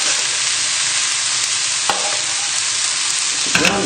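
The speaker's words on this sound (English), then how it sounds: "Now we're just going to toss all this together so that the cabbage gets coated with all the oil from the bacon" Cabbage being tossed and stirred in hot bacon fat in a pan, a steady close sizzle and frying hiss throughout with a couple of brief utensil knocks near the end.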